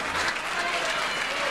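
Crowd at a professional bowling match applauding, a steady wash of clapping with a continuous level across the whole short stretch.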